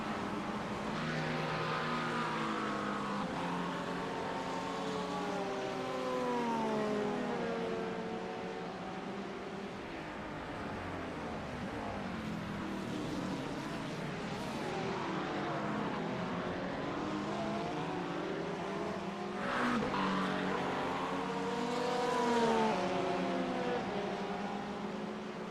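Race cars circling Sebring in the iRacing sim during a 12-hour endurance event, including LMP2 prototypes, with several engines droning and shifting pitch as they pass and overlap, steady and continuous throughout, with no voices.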